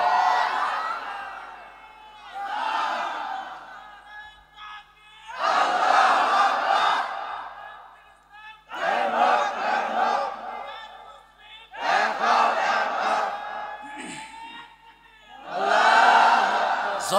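Large crowd at an open-air Islamic sermon gathering shouting the takbir in unison, about six loud, massed chanted bursts separated by short pauses.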